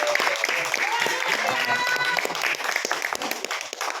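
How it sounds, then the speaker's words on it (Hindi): Audience applause for stage performers at a drama school show, a dense steady wash of clapping with cheers and voices mixed in throughout. "एक बार जोरदार तालियां"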